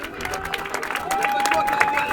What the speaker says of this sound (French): Mesdames et messieurs, un tonnerre d'applaudissements pour Laurent Duribreux